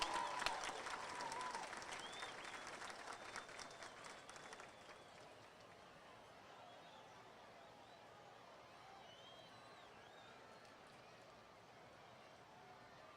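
A stadium crowd at a high school homecoming football game applauds the 2021 homecoming court, with dense clapping and cheering that is loudest at first and fades after about five seconds into distant murmur and scattered calls.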